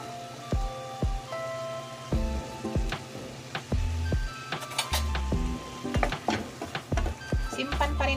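Onion fries in oil in a pan, crackling and sizzling with sharp pops and spatters while utensils clink and scrape against the pan close by, with faint voices underneath.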